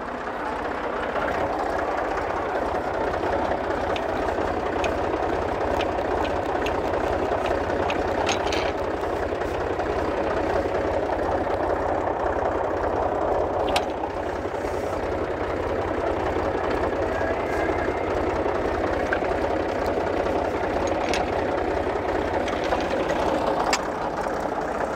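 A Volvo BM320 tractor engine idles steadily outdoors on a farm, giving a constant, even chugging rumble with a faint rattle and a few light clicks over it.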